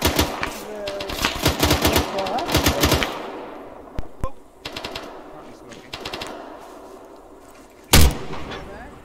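Rapid bursts of automatic gunfire in ArmA 3, clustered volleys of sharp cracks with pauses between, a couple of isolated single shots and a loud close report near the end, with faint voices in the background.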